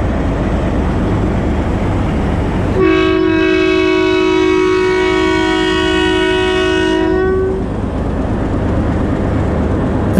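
Departure horn of the Mehar Express train in Pakistan, one long loud steady blast lasting about five seconds over a continuous rumbling background, close by and with no speech.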